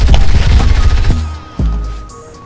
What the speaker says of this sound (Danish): Jeg bliver skudt bagfra.